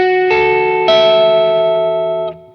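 A chiming electric guitar chord played on a Telecaster through Lambert bridge pickups, struck twice in close succession and left ringing bright and sustained before it cuts off, with no talking.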